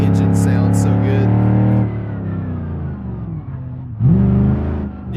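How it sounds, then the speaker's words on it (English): A modded car engine in BeamNG.drive, fitted with an engine pack and racing the Deal's Gap road, revs loud and close with a rich harmonic growl, easing off midway and then surging again under a burst of throttle. "That's why the engine sounds so good"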